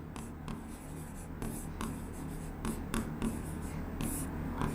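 Marker or chalk writing on a classroom board during a Class 11 chemistry lesson on chemical bonding, a steady series of short scratchy strokes with brief pauses, moderately quiet and close.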